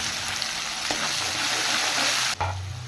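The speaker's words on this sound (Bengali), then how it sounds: "আমি এখন পেঁয়াজ ভেজে নিচ্ছি ট্যাংরা মাছের জন্য এবার আমি দিয়ে দিলাম রসুন আর পেঁয়াজ পেস্ট" Onion with garlic and onion paste fries in a pan for a Bengali tangra fish dish, giving a steady close sizzle with stirring scrapes and a brief dip near the end.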